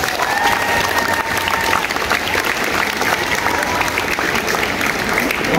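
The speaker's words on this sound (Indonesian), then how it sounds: "Tepuk tangan terlebih dahulu untuk kami." Students at a high school flag ceremony applaud continuously, a dense, steady wash of clapping from a large outdoor crowd that holds an even level from start to finish.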